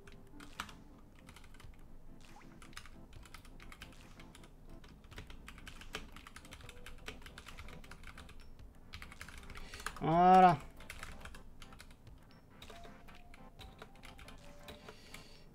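Typing on a computer keyboard during a live coding stream, with a steady patter of soft close keystrokes throughout and a brief spoken word near the start.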